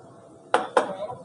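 Metal spoons clink against dishes as they are taken out in a home kitchen, three bright separate taps in quick succession.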